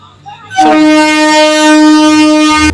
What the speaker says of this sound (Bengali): তবে ট্রেন দাঁড়ালো না, ফুল স্পিডে স্কিপ করে চলে গেল।